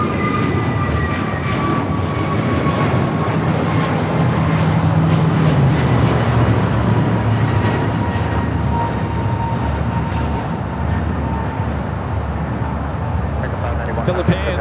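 An airliner takes off at LAX, bound for Reagan National, a broad sustained jet roar with a slowly gliding engine tone, fairly loud throughout, with speech faintly mixed in.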